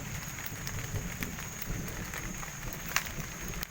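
Heavy evening rain pours as a dense, steady hiss, with scattered sharper drops or crackles standing out against the constant wash of sound.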